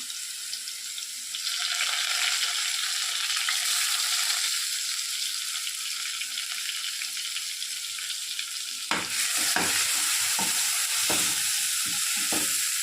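Steady sizzling of onions frying in oil, loud and continuous, followed near the end by a series of sharp stirring and scraping clatters.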